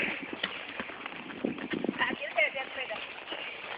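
Rhythmic clip-clop of a large 17-hand horse's hooves at close range under a rider, steady footfalls with some faint background noise.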